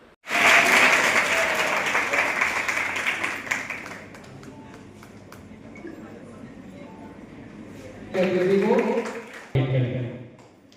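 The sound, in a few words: applause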